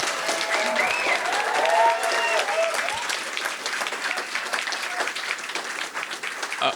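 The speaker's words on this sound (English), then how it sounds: "please, a big round of applause for Chancellor Xero Skidmore." Audience applause at a Baton Rouge Swim-In 60th anniversary commemoration event, sustained clapping from a sizeable crowd with a few faint cheers and murmurs early on, holding steady throughout.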